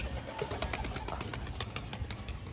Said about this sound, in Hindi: देखो यार व्हाइट कबूतर एकदम बड़ा प्यारा